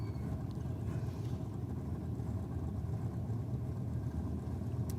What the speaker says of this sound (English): it gets that beautiful rear engine dragster coming down the return road